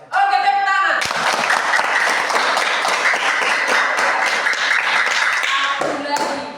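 Students in a classroom break into loud applause after a recitation, brief voices at the start and then sustained close clapping with taps and thumps before it tapers off.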